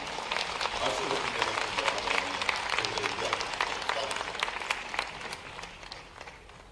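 An audience at a public event with the Madhya Pradesh chief minister claps in a sustained, dense patter of many hands, moderately loud, while a voice carries on talking over it.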